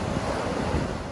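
Ocean surf rolling in at Carpinteria State Beach after a storm, with driftwood-strewn waves making a steady, dense wash roughened by wind buffeting the microphone.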